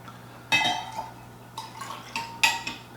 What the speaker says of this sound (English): we're gonna pour this nice 2-ounce pour into the infinity bottle